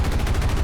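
Rapid machine-gun fire from a P-40 fighter in a flight combat game, a loud continuous burst of closely spaced shots filling the whole moment.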